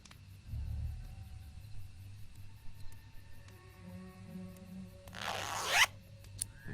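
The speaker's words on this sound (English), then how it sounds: "The zipper on this cushion's stuck." One short, raspy zipper pull on a cushion in Tesla Effect, brief and fairly close, preceded by faint rumbling room noise and small handling sounds.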